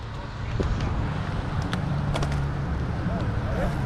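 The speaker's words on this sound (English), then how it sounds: "Your tires have a cool sound." Tires rolling downhill on a road make a low rumbling hum mixed with wind buffeting the microphone, steady and close, while people talk faintly over it.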